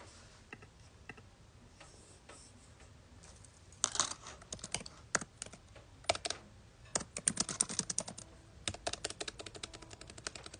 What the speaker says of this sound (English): If you hear, like, excessive typing, I'm so sorry.